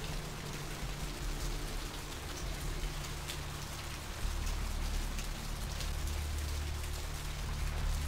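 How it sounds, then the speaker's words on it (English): Steady rain from Vampire: the Masquerade - Bloodlines, a continuous even hiss of falling drops that swells slightly louder partway through, with no voices over it. "Oh, it's raining again."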